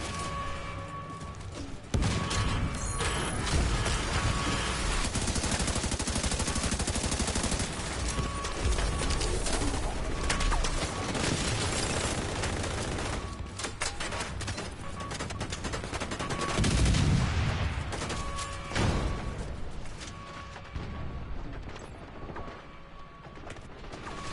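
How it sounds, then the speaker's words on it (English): Dense video game gunfire sprays toward the player in rapid automatic bursts and overlapping shots, loud and nearly continuous, with crashes and impacts mixed in. "Why the hell are you shooting me?"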